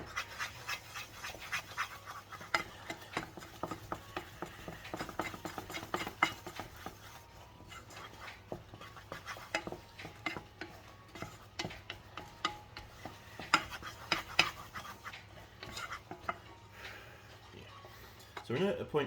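A spoon stirs and drags through a thick, lumpy cheese sauce roux in a pot, making repeated soft scraping and clicking strokes in a steady rhythm, close and moderately loud throughout.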